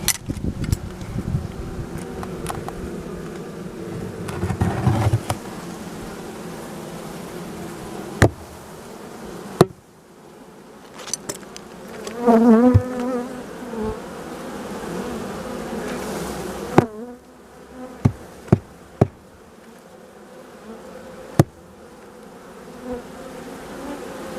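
Honeybees buzzing steadily around a hive in hot September weather, a continuous drone with occasional sharp clicks and knocks close by.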